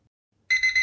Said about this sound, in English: that was the alarm letting me know my time is almost up